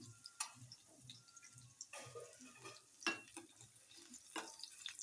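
Shingolya, a dough snack, frying in oil, a soft sizzling hiss with faint stirring clicks and a few sharper spatters, fairly quiet and without talk.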